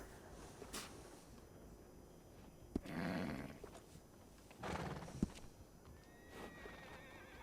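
A horse in the video game Red Dead Redemption 2 gives two loud neighs with snorting breaths, set against faint hoof clops and a quiet outdoor ambience.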